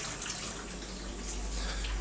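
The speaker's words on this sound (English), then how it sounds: "We'll add a little bit of water" Water pours steadily into an Instant Pot while pumpkin soup is being made, a continuous close splashing stream with no talk over it.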